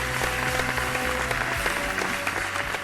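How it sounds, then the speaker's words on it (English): Sustained audience applause for spelling bee participants at a vocabulary competition, dense and steady throughout with a faint musical tone running underneath. "Can we give them a round of applause,"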